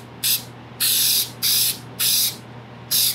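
Contact cement adhesive sprayed onto the headliner of a Volkswagen New Beetle, heard as five sharp hissing aerosol bursts of varying length, close and loud over a steady low hum.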